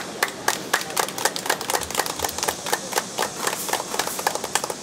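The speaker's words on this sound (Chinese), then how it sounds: "来鼓掌一下好不好" A group of people at a charity donation ceremony clapping, a brief burst of sharp, fairly close applause with an irregular rhythm that carries steadily for a few seconds.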